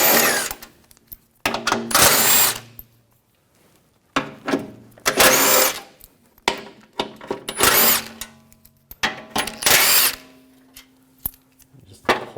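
A power tool with a 16mm socket spins out shield bolts under a 2007-2013 BMW X5 3.0L, several loud close whirring bursts of one to two seconds separated by short pauses.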